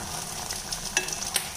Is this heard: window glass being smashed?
no